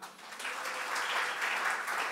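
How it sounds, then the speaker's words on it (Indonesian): A church congregation at a sermon on Christ-centered family breaks into applause, with steady, fairly faint clapping that builds slightly and continues evenly. "kita tepuk tangan ya."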